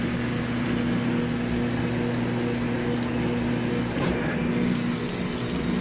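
Hot water running into a GE GTW680BS6JWS high-efficiency top-load washing machine during a jeans cycle, a steady rushing inflow with a low pump-like hum, continuous and close, with a brief rattle toward the end.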